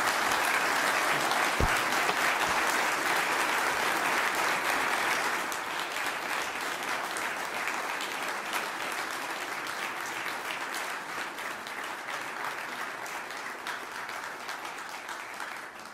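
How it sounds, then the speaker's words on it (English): An audience at a military and security forum gives a round of applause, steady dense clapping that eases slightly after a few seconds and carries on throughout. "please give the Admiral a round of applause"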